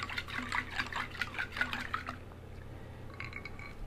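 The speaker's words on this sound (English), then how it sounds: "All right, let's give it a good stir." A liquid phosphorus mixture being stirred gives a series of soft, close sloshing and trickling splashes for about two seconds, then fades to quiet with a faint clink near the end.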